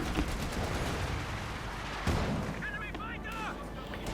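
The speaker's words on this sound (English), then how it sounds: "Another strike there from the United States Air Force." An air strike strafing run in Company of Heroes 2, with dense, continuous rumbling gunfire and explosions, a sharp blast midway, and whistling sounds near the end, all loud throughout.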